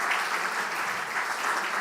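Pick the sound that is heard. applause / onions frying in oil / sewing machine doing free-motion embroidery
applause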